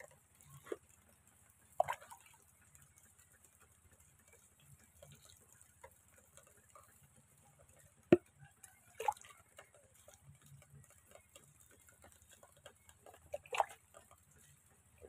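Water poured from a container of PSB fertilizer solution onto potted grape vines in flower, heard as soft trickles, drips and occasional sharper splashes at close range, fairly quiet with no talking.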